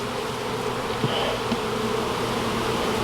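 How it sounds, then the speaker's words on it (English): Honey bees drone in a thick, steady hum inside an opened wooden hive box, a continuous close buzz with a few brief louder passes, no talking. "I'm thinking there's a bunch of bees inside there"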